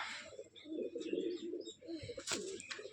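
A Rajshahi Giribaz pigeon giving repeated low cooing calls, close by, in short rolling phrases with a few brief chirps and a faint flutter near the end.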